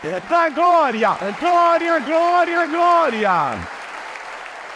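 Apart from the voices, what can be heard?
church congregation applause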